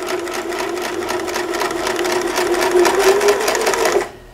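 A sewing machine stitches fabric around a curve in a steady rapid rhythm, loud and close, running continuously for about four seconds before stopping abruptly.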